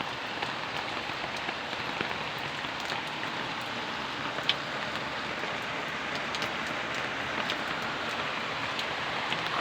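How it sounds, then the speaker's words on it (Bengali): Continuous rain falls on bottle gourd leaves, an even rushing hiss dotted with occasional sharper drops throughout. "আমার সবুজ পাতাগুলো একদম ধুয়ে যাচ্ছে বৃষ্টির পানিতে"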